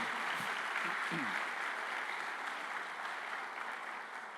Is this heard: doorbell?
no